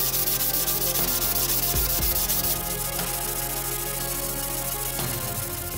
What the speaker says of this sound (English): when I start rubbing it down on the sandpaper, I can see where the high spots are or the low spots on the shoe.